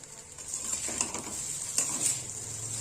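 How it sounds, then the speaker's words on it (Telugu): Egg noodles with freshly added spring onions are stirred in a hot pan, giving a steady hiss of sizzling with soft scraping and brief clinks of the spatula, close by and without talk. "ఇలా వేసుకొని ఒకసారి అంతా కలుపుకున్నాము."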